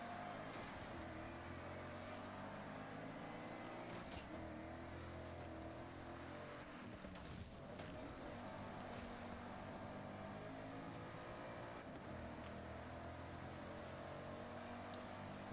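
A truck driving in WWE 2K26, a continuous droning engine with layered low harmonics and a broad hum, holding steady for about fifteen seconds with a brief rough swell partway through.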